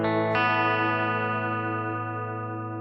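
An electric guitar chord rings through a Headrush modulated reverb, struck once and then restruck, its sustained tone shimmering and wavering as it slowly decays, loud and alone.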